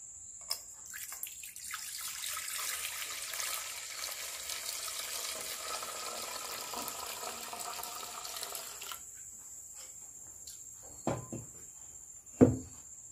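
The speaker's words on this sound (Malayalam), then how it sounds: "ഇത് നമുക്കൊരു പാത്രത്തിലേക്ക് ഒഴിക്കാം." Homemade rose apple (chambakka) wine is poured into a vessel: a steady, soft liquid rush lasts about eight seconds, then it goes quiet apart from a couple of sharp knocks near the end. A constant high insect-like whine runs underneath.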